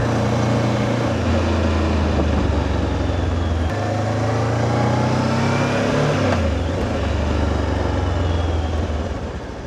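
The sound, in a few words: Voge DS 525X motorcycle riding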